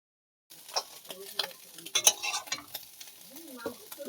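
Prawns sizzle and spit in hot oil in a pan, crackling bursts rising and falling with scraping stir strokes over a few seconds, close and fairly clear.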